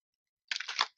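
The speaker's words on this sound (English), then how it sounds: "and the last shuffle." A deck of tarot cards being shuffled during a reading makes one quick, close riffle lasting about half a second. The burst is brisk and papery and stands alone, with no talking.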